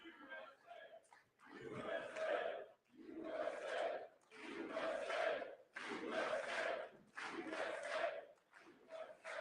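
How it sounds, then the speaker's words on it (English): A large rally crowd chanting "USA, USA" in a loud, regular rhythm, each chant a broad roaring burst followed by a brief dip, repeated about six times. "Listen to the crowd. USA, USA."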